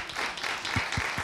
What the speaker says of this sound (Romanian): Aplauze pentru corpul de balet.